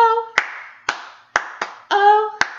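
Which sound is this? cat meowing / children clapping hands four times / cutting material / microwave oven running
children clapping hands four times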